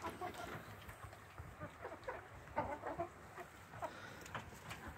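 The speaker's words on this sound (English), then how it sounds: "look at all the chickens" Chickens, with a rooster among them, cluck and chatter in scattered bursts in a coop, a busy flock heard at moderate distance with soft background rustle.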